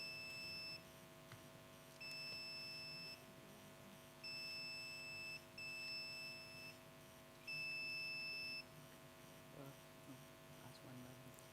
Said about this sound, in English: Please press your buzzers.